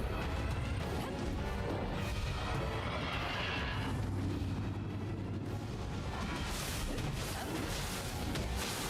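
A loud, dense video game soundscape of crashing and smashing with a shrill neigh from a horse demon cutting through, continuous and chaotic throughout.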